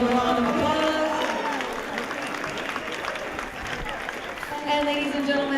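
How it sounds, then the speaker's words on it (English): Applause and crowd noise fill a boxing venue after a 200 lb open Golden Gloves bout, a steady broad wash of clapping with a ring announcer's voice carrying over it at the start and end. "let's give these two warriors one more big round of applause."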